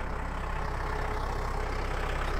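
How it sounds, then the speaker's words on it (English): A tractor engine runs steadily while cutting a gravel road on unstable ground: a low, even mechanical rumble at moderate distance, continuous and without speech. "Tractor's running good."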